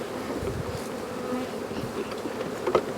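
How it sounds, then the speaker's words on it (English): A dense, steady buzz of many bees hums up close, with occasional louder passes of individual insects. "a lot of bees"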